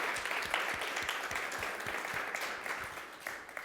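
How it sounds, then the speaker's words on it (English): Audience applause fills a conference hall at the Danube Conference 2022, a dense, steady wash of many hands clapping at moderate volume for nearly four seconds, tapering slightly toward the end. "I think you deserve a big round of applause for everything that we have seen in this day."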